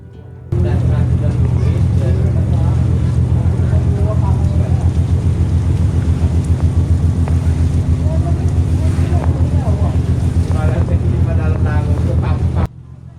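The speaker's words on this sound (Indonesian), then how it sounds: "Kapal terus melaju tenang di perairan Merak, melewati gugusan pulau-pulau kecil yang tersebar di sepanjang jalur pelayaran." Ferry crossing the Sunda Strait near Merak, among small islands under an overcast midday sky; a steady, loud low engine drone with wind rumble runs throughout, starting abruptly and cutting off near the end.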